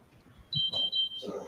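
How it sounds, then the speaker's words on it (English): A fire alarm in a courtroom gives a steady high electronic tone lasting under a second. It sounds close and fairly loud, then gives way to a muffled thump and room noise. "And the fire alarm."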